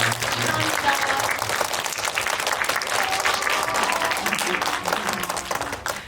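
Sustained applause from a large cinema audience, steady and dense clapping with crowd noise throughout.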